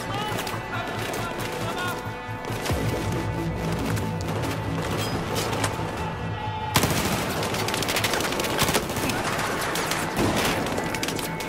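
Dense, loud bursts of enemy gunfire in the Battlefield 4 single-player campaign's prison-escape mission: rapid automatic fire and sharp cracks crowd together continuously, with a sudden crash-like surge partway through, and a voice speaks briefly over the combat.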